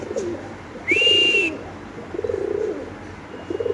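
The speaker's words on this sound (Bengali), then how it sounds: "দর্শক আমরা একটু কবুতরের ডাকটা দেখা দিচ্ছি" A female pigeon coos in a few low, rolling phrases, close by, with a brief high whistle-like tone breaking in between them.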